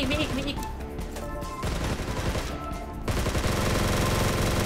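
Rapid bursts of gunfire aimed at the player in the free ROE battle royale game, dense and loud throughout, with sharp overlapping shots that thicken near the end, heard over game music and effects.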